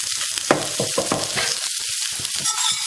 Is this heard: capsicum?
yes